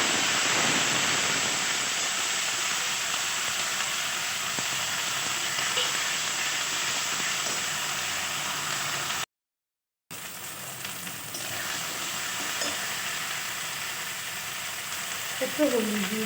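Onion paste and ginger paste fry in hot oil in a home kitchen, giving a dense, continuous sizzle that runs nearly throughout, broken by one brief silent gap, with light stirring.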